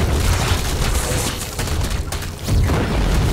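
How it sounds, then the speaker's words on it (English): Nexus structure exploding during a StarCraft II 2v2 match, a dense rumbling blast of booms and crackling bursts that stays loud and full through the moment, with a brief dip before surging again. "There's nothing like an exploding Nexus to get the blood flowing."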